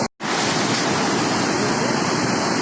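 Floodwater released from Gandipet surges under the Puranapool bridge, making a loud, continuous roar of rushing water close by with no break and no speech.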